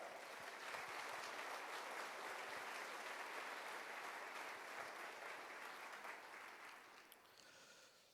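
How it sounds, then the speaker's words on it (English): A crowd at a State of the City address applauds steadily, a dense wash of clapping that holds for several seconds before thinning slightly at the end. "Give her a round of applause."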